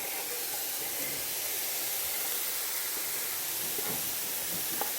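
Onions hit a hot pan among cooking greens for stuffed zucchini, producing a steady, even hiss of sizzling at moderate volume with a few faint pops.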